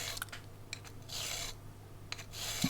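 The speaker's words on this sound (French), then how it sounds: "On va passer du côté de la lime fine" A fine file from a Nash sharpening kit rasps against a carp fishing hook point in a few short strokes, close and faint with brief scratchy bursts and no talking.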